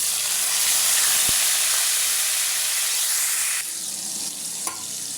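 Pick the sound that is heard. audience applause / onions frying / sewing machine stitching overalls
onions frying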